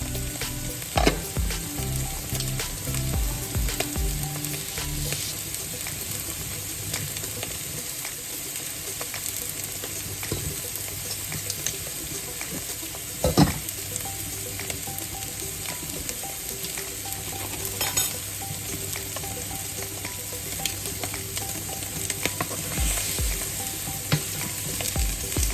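Potatoes fry steadily in a pan, a continuous crackling sizzle with scattered sharper pops and occasional stirring clatter, close and fairly loud throughout with no talking.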